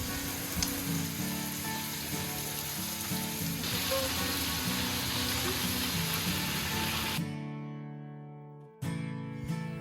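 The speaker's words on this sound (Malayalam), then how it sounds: "നമ്മൾ ആ ഒരു പാനിൽ നമ്മുടെ ചിക്കൻ കുറച്ച് ഷാലോ ഫ്രൈ ചെയ്തെടുക്കണം" Chicken shallow frying in a pan for butter chicken gives a steady, loud sizzle that runs continuously, then cuts off abruptly near the end before a brief return.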